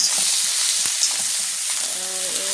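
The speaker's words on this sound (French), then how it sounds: "J'ai grillé toutes deux faces de côté." Lamb shoulder sears in a hot pan, giving a loud, continuous close-up sizzle and hiss with faint scraping beneath it and no speech.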